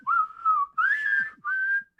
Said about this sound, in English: now we're all whistling.